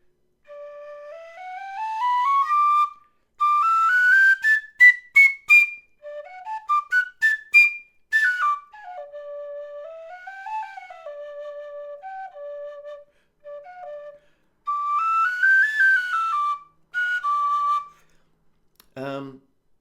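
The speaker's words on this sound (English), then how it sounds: "Here is the original Clark high D" A tune played on an original Clark high D tin whistle, its clear breathy tone running up and down in phrases separated by short pauses, alone and fairly close.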